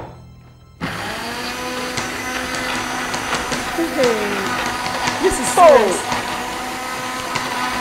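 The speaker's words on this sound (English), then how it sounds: "Don't spoil this blender." A kitchen blender runs steadily with a loud, constant motor drone starting about a second in, overlaid by people talking and some rattling clatter throughout.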